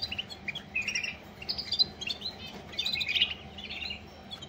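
Canaries chirp and tweet in quick bright bursts at moderate distance, several short phrases overlapping above a low steady background hum, no voices.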